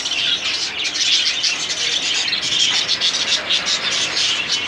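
Many small caged birds chirp and tweet continuously at a crowded Friday bird market in Mirpur 1, Dhaka, a dense steady chatter of high calls with faint voices in the background.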